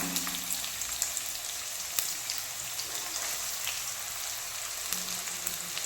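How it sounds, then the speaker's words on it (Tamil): Sliced onions fry in hot oil for a baby corn dish, giving a soft, even, continuous sizzle with faint pops, close by and steady, and no voices. "எண்ணெய் சூடாகி இதெல்லாம் ஃப்ரை ஆகுது"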